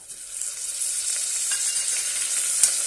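Chopped tomato sizzling as it sautés in an oiled pan while making veg pulao, a steady bright frying hiss throughout with faint stirring, no talk.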